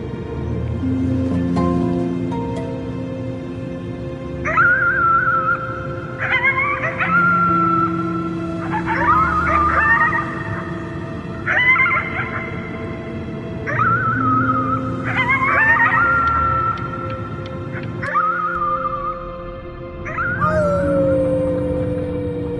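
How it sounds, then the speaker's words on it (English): A drawn-out howling at the moon from a character in the video game Before Your Eyes, rising and wavering in repeated long cries over a sustained musical backdrop, loud and close throughout. "You howled at the moon at the top of your lungs"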